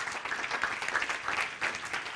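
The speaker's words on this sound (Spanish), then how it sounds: "Date un forte applauso a Gesù." A church congregation applauds for Jesus in a sustained, even wash of clapping, moderately distant and fairly quiet, with no voices over it.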